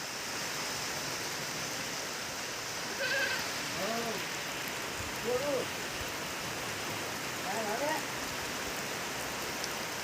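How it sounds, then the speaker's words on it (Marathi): Steady rain pours over a village in a continuous hiss, with goats bleating several times in the middle distance and a voice briefly audible. "हे बघा पाऊस झालाय चालू"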